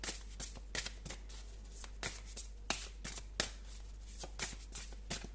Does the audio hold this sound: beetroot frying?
no